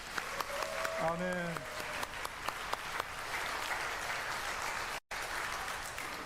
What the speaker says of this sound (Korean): 특별히 오늘 모든 사역자들 위해서 우리 박수 한번 쳐주겠습니다